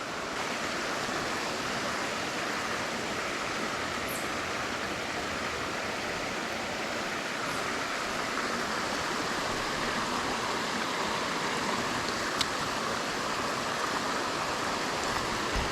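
A creek in northern Canada flows steadily, producing a continuous broadband rush of water that holds the same fairly loud level throughout, close by, with no talk over it.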